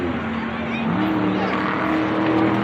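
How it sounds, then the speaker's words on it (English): Car engine running and revving steadily, loud and close, with a continuous rumbling drone and a slight rise in pitch partway through; voices talk faintly beneath it. "Want to start this car up?"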